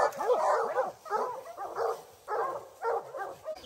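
Hunting dogs on a bear chase bark in repeated bursts, several loud yips and bow-wows grouped in quick rhythmic clusters with short pauses, close by and outdoors.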